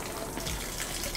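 Water gushes steadily from an outdoor tap in a spring garden greenhouse, a close, continuous broadband rush of flow that holds evenly through the whole moment with no talking over it.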